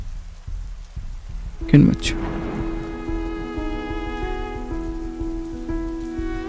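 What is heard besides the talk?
rain falling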